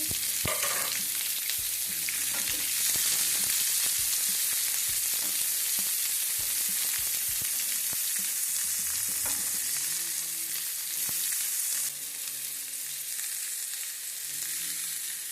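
Onion and green chilli fry in a hot pan with a continuous loud crackling sizzle, punctuated by occasional scrapes and clicks of stirring.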